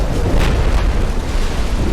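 A heavy, rumbling explosion from a torpedo striking a warship in the naval game Ultimate Admiral: Dreadnoughts, a dense low boom that fills the short moment with no talk.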